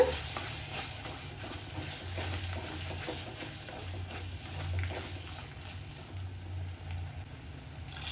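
A soft, steady sizzle of spice paste with dried chillies sautéing in a pan, with occasional scraping and stirring over a low background rumble.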